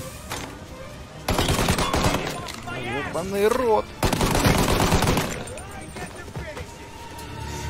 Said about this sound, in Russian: Да хватит доджить мои выстрелы!